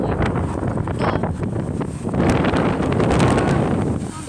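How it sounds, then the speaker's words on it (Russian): Very strong wind buffets the microphone in a steady, loud roar that swells slightly midway, with no speech. "Очень сильный"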